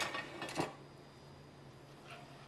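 Dishes and cutlery clink as a dinner of rice and fish is plated, a few close knocks and scrapes in the first second, then quiet room tone with one faint later tap.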